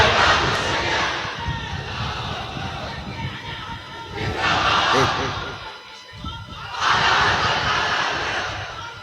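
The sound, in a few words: crowd chanting religious slogans at a sermon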